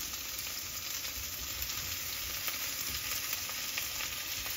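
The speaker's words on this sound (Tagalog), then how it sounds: "next, ihalo na natin yung shrimp" Shrimp and tomato with onion sizzle and fry steadily in a hot pan for sinigang, a continuous close hiss with faint stirring scrapes throughout and no talking.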